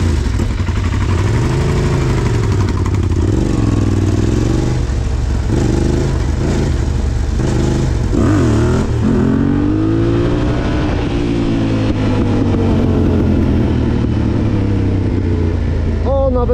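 A Yamaha Raptor 700 R quad's engine rumbles loud and close, idling with repeated throttle blips that rise and fall, then swells into a longer rev near the end.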